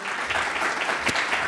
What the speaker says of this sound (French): Merci, mesdames, messieurs, d'accueillir sous vos applaudissements Madame Firdaus El-Razi